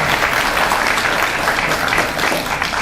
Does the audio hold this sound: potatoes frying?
no